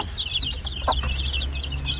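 A hen clucks softly in short bursts among farmyard chirps, close by, with a low steady hum underneath.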